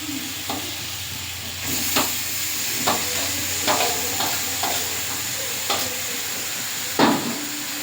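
Lote fish and potatoes fry together in a pan with a loud, steady hiss and sizzle, while a spatula scrapes and knocks every second or so and one firmer clank comes near the end, with no talking.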